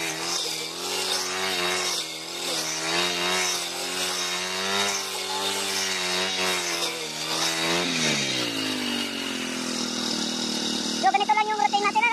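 A motorized grass cutter drones steadily while clearing grass in a farm field before corn planting, its engine note rising and dipping slightly over the whole stretch, close and loud, with a voice briefly heard near the end.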